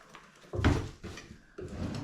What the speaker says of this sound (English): So let's get it put back in the drawer.